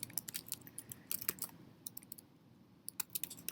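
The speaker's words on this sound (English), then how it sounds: "So I'm going to type in here" A computer keyboard clatters with quick bursts of keystrokes, pausing briefly mid-way before resuming, close and fairly quiet with no voices.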